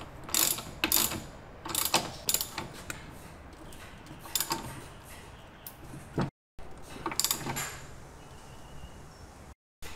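Ratchet wrench tightening the front axle on a Harley-Davidson front fork, a run of quick clicking pawl bursts in short repeated strokes, close and crisp, with brief pauses between pulls and no talking.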